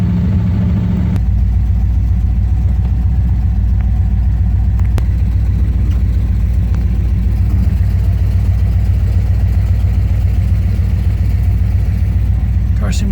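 A 1971 Chevrolet Corvette V8 idles steadily in snow, a low continuous rumble close by that holds even for the whole stretch with little change in pitch.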